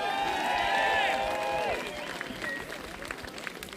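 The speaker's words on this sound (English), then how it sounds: "Give yourselves a round of applause." Outdoor concert crowd in Fenton, Michigan, cheering, whistling and clapping loudly at first, then gradually thinning out into scattered claps and chatter.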